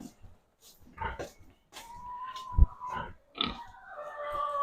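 Pigs in a pen give off repeated close grunts and snorts, broken by a few higher squeals and short sharp bursts, some calls overlapping in an irregular rhythm.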